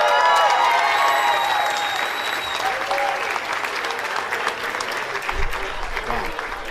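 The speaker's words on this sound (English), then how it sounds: "Just feels nice to hear the crowd cheer." Crowd applauding and cheering at an annual Red Ribbon Gala benefit auction, a loud, steady wash of clapping filling the room with a few voices rising above it throughout.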